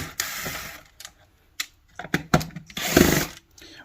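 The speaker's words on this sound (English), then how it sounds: "I'm going to remove all of the Torx screws" A power screwdriver whirs in short, separate bursts while removing the Torx screws from a Dyson brush head, one in each corner, with quiet gaps and handling clicks between the close, fairly faint bursts.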